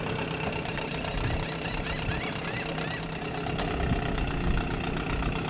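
A cheap small motorboat's engine drones steadily with a rough, knocking rumble, continuous and fairly close throughout.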